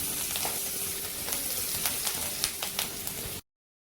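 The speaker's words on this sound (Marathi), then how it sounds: "हे मिरचीचे तुकडे या फोडणीमध्ये चांगले परतून घ्यायचे." Green chilli pieces sizzle in a hot tempering of oil with asafoetida and turmeric, a close, crackling fry with small pops that runs steadily and then cuts off abruptly.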